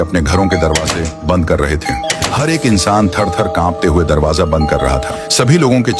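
Doorbell chimes ring out repeatedly in a town at eight o'clock, mixed with music under steady, continuous Hindi narration for the whole stretch.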